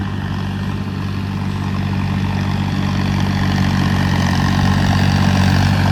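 A John Deere 5210 tractor engine idles close by with a steady low diesel rumble and faint vibration, holding an even level throughout with no voices over it.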